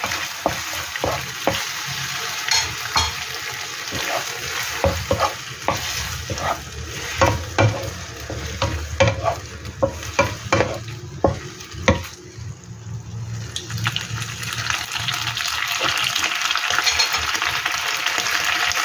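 Pork skin and green beans sizzle in a pan, with soy sauce just added, while a utensil scrapes and stirs in quick irregular strokes. The frying grows into a steadier, louder hiss toward the end.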